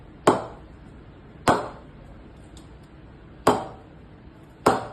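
A DSC Blu 200 cricket bat with a round handle and clean wood, tapped for a ping test: four sharp, bright knocks spaced about a second apart, close and crisp against a quiet background, no speech.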